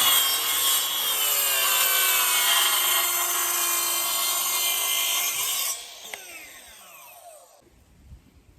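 Hand saw cutting through a wooden board for a DIY radiator cover outdoors, steady rasping strokes for about six seconds, then the saw stops and the cut piece drops with a soft knock.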